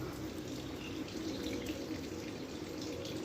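A large katla fish is rinsed under a running kitchen tap, with a steady close splash and trickle of water and no talking.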